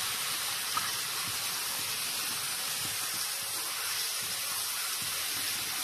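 Mutton frying with onions in a pan over a medium-low flame while being stirred, giving a steady, fairly quiet sizzling hiss that runs unbroken through the whole stretch with no voices.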